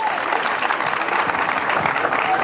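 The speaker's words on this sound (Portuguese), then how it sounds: "Palmas pra ela" An audience at a sales talk bursts into dense, steady applause, loud and close, with a few voices mixed into the clapping.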